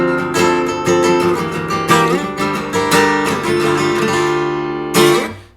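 Guitar in drop D tuning playing a ringing drone-note chord pattern with movable open-sounding voicings, steady rhythmic strums up close and loud, with a final accented strum near the end.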